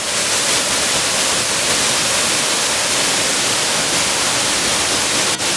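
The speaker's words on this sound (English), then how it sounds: "This is from behind the waterfall." A waterfall heard from behind the falling water inside a small misty cave, a dense, even roar filling the whole space, close and unbroken, with no voices.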